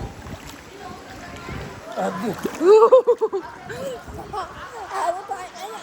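Someone splashing in deep water, with sloshing and splatters that build to a loud burst midway, mixed with voices, shouting and excited chatter throughout.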